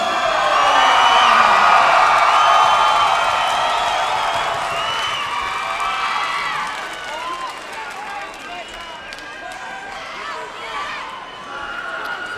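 A fight crowd cheers, whoops and applauds loudly as a fighter is introduced, peaking early and then settling into sustained noisy cheering while voices talk over it.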